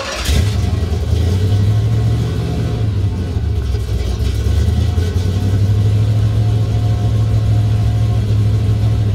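A 1971 Corvette's 327 V8 revs up with a sharp opening bark, then settles into a loud, deep rumbling idle with a slight rise and fall in pitch.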